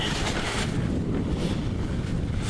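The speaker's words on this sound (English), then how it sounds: "The sail's doing a little luffing and puffing" Steady wind buffets a sailboat under sail in about 10 knots of breeze while the sail luffs, with broad rushing noise and soft flapping surges and no talking.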